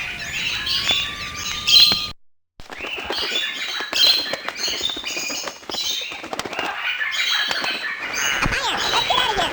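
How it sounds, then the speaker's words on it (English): Pet birds screeching in alarm in the 3DO game Shelley Duvall's It's a Bird's Life as smoke from a brush fire nears the house: dense overlapping squawks, chirps and wing flaps, loud and continuous apart from a brief dropout. "They screeched to alert the other birds."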